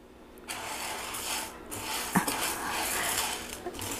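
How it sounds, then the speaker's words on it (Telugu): Toor dal dry-roasting in a pan, close and steady: a continuous rattling scrape of dry lentils being stirred and tossed against the metal, with one sharp clink partway through. "ఇప్పుడు కందిపప్పు, పెసరపప్పు పప్పులు వేయించుకుందామండి. ఫస్ట్ కందిపప్పు వేస్తున్నా."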